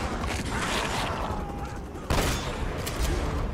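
Shotgun fire in the video game Uncharted comes as dense, loud blasts over a continuous roar of combat, with one sharp, heavy report standing out midway.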